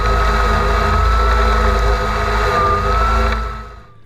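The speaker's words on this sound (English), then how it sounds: "I can hear the engine power up as it cuts through thick," A battery-powered electric lawn mower cuts through thick, long grass, a steady loud motor whine with a rising tone under dense cutting noise, fading out at the end.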